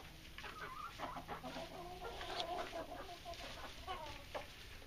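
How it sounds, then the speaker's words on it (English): Rhode Island Red chickens in a backyard coop and run give soft, repeated clucks and murmurs, close by but quiet, with a few sharper calls mixed into the low chatter. "A couple chickens are getting pretty friendly. They'll come up to me. Rhode Island Reds, mostly."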